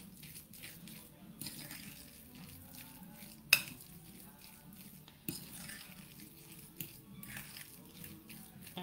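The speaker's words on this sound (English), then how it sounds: "And you mix carefully everything, all the ingredients." A spoon scrapes and clinks in a bowl while a thick butternut squash arancini mixture is stirred, with a few sharp taps against the rim among soft scraping, quiet and close.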